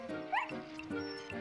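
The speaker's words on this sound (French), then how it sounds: "Snuffy courait tout autour du manège sans s'arrêter, agitant sa queue en aboyant vivement." Excited barking from a small cartoon dog running around a spinning merry-go-round, a rapid series of short, fairly faint yips in a quiet scene.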